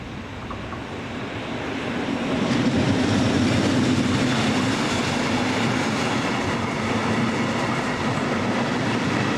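A freight train hauled by an Austrian Railways ÖBB electric locomotive rumbles past nearby at Oberla, a steady heavy roar of rolling wagons that swells after a couple of seconds and holds.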